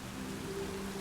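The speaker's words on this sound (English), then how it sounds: "Oh, it's raining." Rain in the video game Satisfactory falls as a steady, soft hiss with a faint low hum beneath, continuous and fairly quiet, with no voices.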